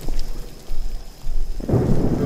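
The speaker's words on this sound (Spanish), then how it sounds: "¿Llueve o qué?" A horror video game plays a heavy thunderstorm: a deep rumble of thunder builds and then breaks into a loud crash over steady rain, close and loud, with no speech.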